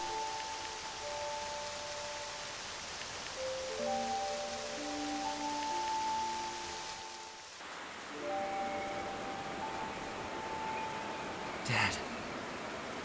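Steady hiss of purple rain in Octopath Traveler II fills the scene under sustained musical tones, with a brief sharp burst near the end.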